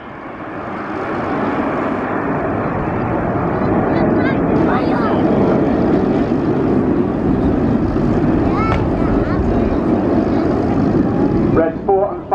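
Red Arrows jets flying a display at RIAT, heard as a continuous loud jet roar that swells and holds, with a commentator talking over it throughout.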